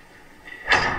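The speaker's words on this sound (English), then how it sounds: "Did they CGI that little door closed?" A small door swinging shut in a Doctor Who scene, heard as one short, fairly close thud at the end after a quiet lead-in.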